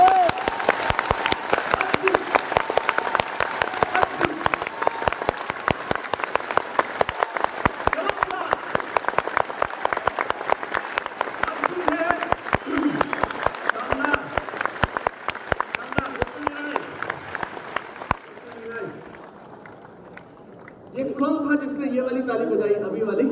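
A large audience in a stadium claps in unison for about ten seconds, dense rapid applause filling the space, then fading into quieter crowd noise and a voice speaking.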